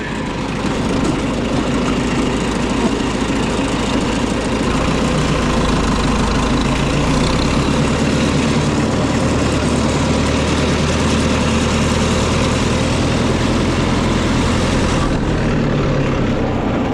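A tractor hitched to a hay rake for first-cutting hay runs its engine at a steady idle, a loud, close, continuous drone with no talking over it.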